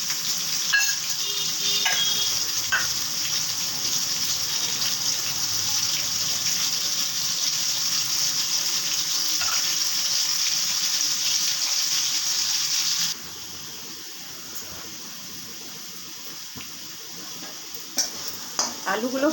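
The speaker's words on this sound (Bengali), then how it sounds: "আলুগুলো আমি ভেজে তুলে রাখবো।" Potatoes frying in hot oil in a pan, a loud continuous sizzle with scraping stirs, then easing to a quieter simmer after a sudden drop partway, with a few clinks near the end.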